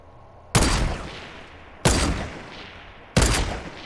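Three loud, separate gunshots from a video game, spaced a little over a second apart, each a sharp blast with a short decaying tail, fired at random with no talking.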